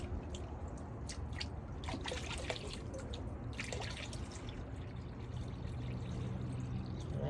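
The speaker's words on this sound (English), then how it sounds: "So let's pour the water back in here." Water is poured back into a container of gold-panning concentrates, giving a soft, continuous trickle and splash with scattered drips, faint and close over a low background rumble.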